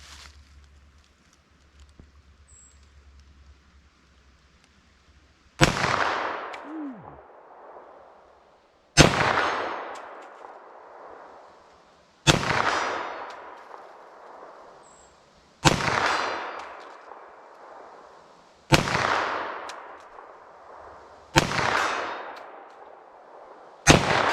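Seven sharp 9mm pistol shots fired at a target, loud and close, spaced at a steady interval of roughly three seconds, each with a short ringing decay, after a quiet lead-in.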